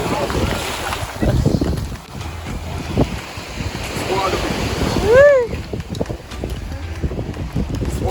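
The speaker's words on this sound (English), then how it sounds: "It's not a beach, it's just water. It's just water. It's ocean." Ocean water churns and washes steadily over rocks on a rocky Jamaican shore, with wind buffeting the microphone; people talk over it and a bird squawks briefly.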